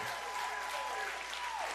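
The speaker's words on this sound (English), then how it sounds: "we can clap for that." A studio audience claps briefly at a sports talk show with a football player guest, a dense patter of many hands lasting under two seconds, faint in level, with a faint tonal sound sliding beneath.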